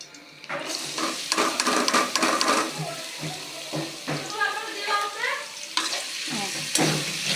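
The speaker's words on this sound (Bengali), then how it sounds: "তাই আমি কড়াইতে তেলটা দিয়ে দিলাম" Oil sizzles in a wok in a village kitchen before rohu fish curry cooking, with a bubbling hiss mixed with scraping and splashing, close and moderately loud, with some faint voice-like sounds.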